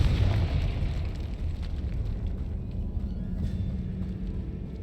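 The Confringo fire spell going off in the Hogwarts Legacy video game, a deep rumbling burst that dies down into a sustained low roar, heard alone and at moderate volume.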